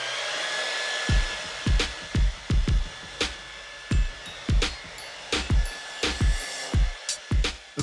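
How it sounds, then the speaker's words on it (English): A Dyson Supersonic hair dryer blows a steady, loud high-pitched stream of air, broken by a rapid series of sharp clicks or pulses that fall in an uneven rhythm across the whole stretch. "this is the smartest hairdryer ever built"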